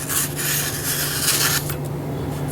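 A sharp knife drawn through a sheet of paper gives a continuous close, dry rasping slice lasting about a second and a half, then fades into steady low room hum.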